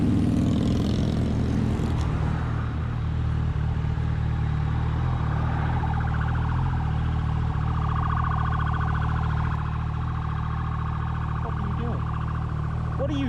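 A police car siren wails continuously over loud traffic and engine rumble on a town street during a First Friday event in Bentonville, holding steady and prominent across the whole stretch.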